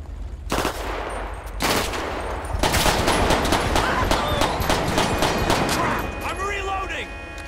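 Gunshots ring out in a GTA V police patrol game with the LSPDFR mod: a few sharp, loud cracks early on, then a denser burst of rapid shots, set against constant engine and street noise.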